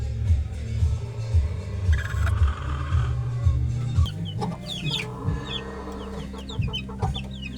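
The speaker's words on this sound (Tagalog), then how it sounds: "Ayan na po yung mga sisiyo." Newly hatched chicks and hens from a gamefowl bloodline clucking and peeping in a steady, close chatter, with a low hum running underneath and bright chirps rising toward the end.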